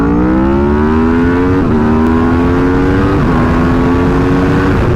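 A supercharged Kawasaki H2 motorcycle accelerates hard through several gears, its engine note climbing steadily before dipping briefly at each shift, loud and close over constant wind rush.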